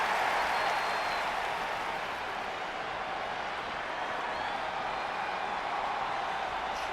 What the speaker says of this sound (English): here come the Iconics, pouring it on in front of their home crowd